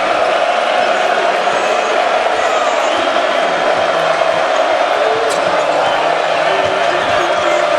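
A college basketball crowd cheering at Littlejohn Coliseum during a Nebraska vs. Clemson game, a steady loud roar that fills the arena, with a play-by-play announcer talking over it.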